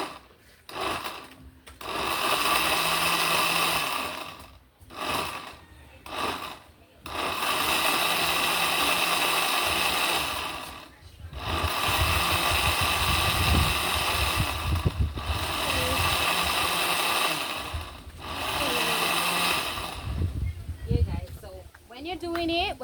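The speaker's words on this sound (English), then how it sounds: "We want to make sure that everything is blended." A blender whirs loudly in repeated bursts, stopping and restarting several times, while blending Jamaican strong back punch with nuts, with a person talking in the pauses and over the motor.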